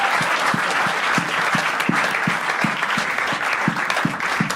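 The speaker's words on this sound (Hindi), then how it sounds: "एक बार जोरदार तालियां यार।" An audience claps loudly and continuously at a comedy talent show, a dense wash of hands with a few sharp, near-regular claps standing out close by.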